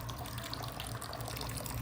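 Water streams steadily over a river table exhibit at an aquarium, a constant close trickling and splashing wash with no voices.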